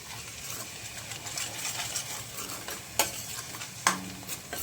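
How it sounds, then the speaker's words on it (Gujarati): Paneer and gravy roasting in a pan with a steady sizzle and frying hiss, a spoon stirring throughout and two sharp scrapes or clinks against the pan near the end. "જેટલું સરખું પનીર મારું શેકાય ને એટલું સારું બને."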